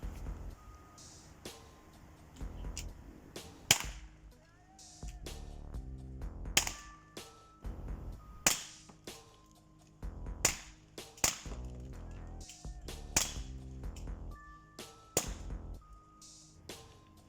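An Umarex HDR 50 CO2 revolver fires rubber balls at a cardboard target, a series of sharp, close pops spaced irregularly about a second apart, with faint clicks and handling noise between shots.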